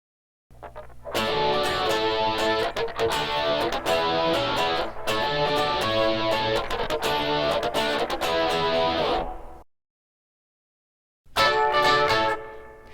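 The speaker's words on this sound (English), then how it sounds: "when I demo the distortion settings back to back here, you'll really hear what I'm talking about" Electric guitar played through a Rockman X100 distortion pedal, loud, thick distorted chords and notes strummed in rhythmic bursts, stopping for a short silence before another burst.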